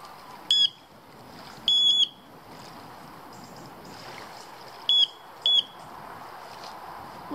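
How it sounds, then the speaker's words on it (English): An electronic pike bite alarm chirps in short bursts, two quick beeps, a longer triple chirp, then two more, beside a lake in Bala, North Wales, over soft outdoor ambience. "Pike alarm."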